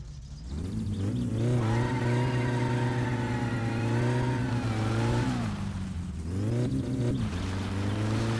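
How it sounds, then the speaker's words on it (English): A car engine in the My Summer Car game drives along with a steady, loud mid-pitched drone and clear harmonic tones. It rises slightly in pitch, dips briefly near the six-second mark, then picks up again, with no talk. "All right, we're now at the point where we can drive this thing around."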